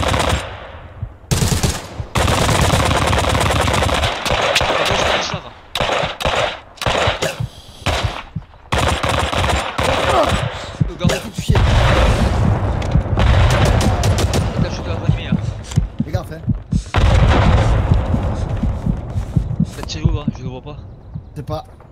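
Rapid machine-gun bursts and scattered gunshots crackle through a Hell Let Loose firefight, loud and nearly continuous, with heavier thuds mixed in while players talk over the din.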